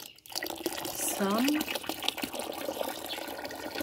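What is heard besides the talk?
pouring cold water for fermented sorghum drink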